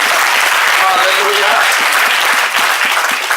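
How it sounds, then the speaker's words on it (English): Congregation at a Passover celebration church service clapping hands together, a loud continuous wash of clapping with a voice calling out briefly over it near the start. "Clap your hands."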